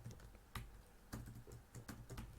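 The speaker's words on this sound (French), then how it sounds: "en ligne de commande, je tape gcc exemple" Quick bursts of computer keyboard keystrokes, faint and close, as a compile command is typed at a command line, with uneven rhythm and short pauses and no speech.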